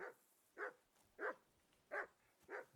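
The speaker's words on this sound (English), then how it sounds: "whistle at that mutt of yours to stop barking" Dog barking in the video game Kingdom Come: Deliverance II, five evenly spaced mid-distance barks in a steady rhythm with quiet gaps between them.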